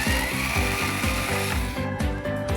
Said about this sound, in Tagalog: So ayan, natanggal na yung first screw.